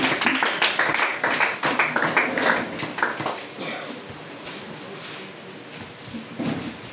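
Congregation at a church service clapping in a burst of applause that fades to scattered claps, moderately loud and close.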